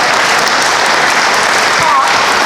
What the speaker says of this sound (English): So you should all give yourselves a round of applause, for coming out and having the courage to listen to this.